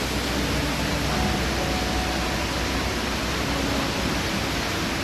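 Continuous broadband roar of waterfalls in Dubai, a steady, loud, even rush of falling water with no breaks and no voices.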